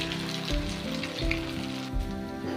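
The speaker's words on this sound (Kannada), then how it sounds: "ಈಗ ಎಲ್ಲ ಪಕೋಡನು ನಾನು ಎಣ್ಣೆ ಒಳಗೆ ಫ್ರೈ ಮಾಡ್ಕೊತಾ ಇದ್ದೀನಿ" Potato and puffed rice pakodas fry in hot oil, giving a steady, close sizzle and crackle with small surges throughout, while faint sustained tonal sounds run underneath.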